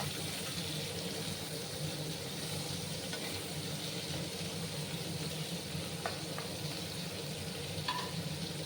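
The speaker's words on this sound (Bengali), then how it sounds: "ভালো করে একটু সময় আমি সজনে ডাঁটার আলুতে ভালো করে ভাজবো" Moringa drumsticks and potato pieces fry with salt in a pan, giving a steady, dense sizzle that runs loud and unbroken from start to finish, close up, with no talking.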